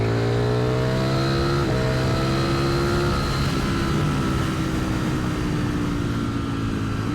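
A Ducati V4 motorcycle engine revs steadily at partial throttle, around 40 percent, with a loud, close, continuous tone that climbs slightly in pitch and has no talk over it.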